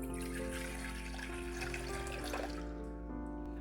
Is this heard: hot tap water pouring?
yes